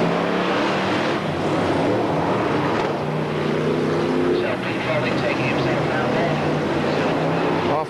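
F1 stock cars race at Sheffield Sports Stadium in 1985, their engines a loud continuous roar that swells and fades as the cars pass. A commentator's voice runs over the noise the whole time.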